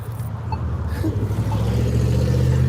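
Loud red car driving by on a town street, a low, rumbling engine drone that builds steadily and grows louder toward the end as the car approaches.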